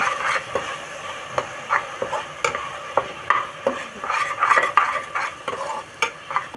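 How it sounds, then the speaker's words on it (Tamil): Curd with turmeric, chili powder, garam masala and ground cinnamon and clove sautéing in a pan for basmati tomato rice, with close, steady sizzling broken by repeated scraping stir strokes. "கொஞ்சோண்டு தயிர் போட்டிருக்கேன் தயிர் வதங்கிக்கிட்டு இருக்கு"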